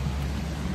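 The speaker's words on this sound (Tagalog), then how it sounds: "Sobrang lakas ng ulan." Heavy rain pours steadily in a dense, even wash of noise, with no voices heard during the downpour.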